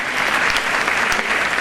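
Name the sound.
applause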